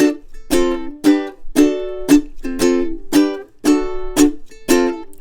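Ukulele strummed through the chords of a song in a steady rhythmic pattern, about nine crisp, close strums ringing brightly with short gaps, played alone.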